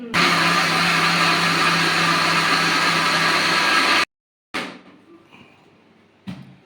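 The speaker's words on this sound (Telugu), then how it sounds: "మిక్సీ పట్టుకోవాలా అంతా?" Loud steady whine of a kitchen mixer grinder churning overnight-soaked rice into a fine batter, running at full power for about four seconds, then stopping abruptly, followed by a few faint clatters of the jar being handled.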